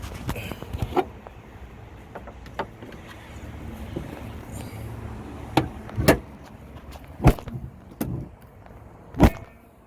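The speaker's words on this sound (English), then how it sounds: "So let's close this hood." Hood of a Lincoln MKX / Ford Edge being lowered and shut, with a handful of sharp thuds and clicks spaced over several seconds, fairly close against a low background rumble.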